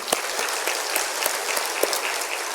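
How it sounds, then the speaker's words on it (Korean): Congregation in a church applauding during a sermon, a steady dense wash of clapping with a few sharper claps standing out, sustained throughout without speech. "감사의 박수"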